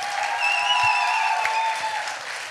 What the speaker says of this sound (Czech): Ještě jednou obrovský potlesk, dámy a pánové